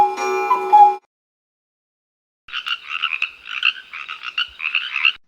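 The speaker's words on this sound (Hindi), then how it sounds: "ऐसे तो मेंढक ही आवाज निकालते हैं," A frog croaks in quick, uneven bursts of raspy calls over roughly three seconds. The croaking follows a brief ticking clock and a pause of silence.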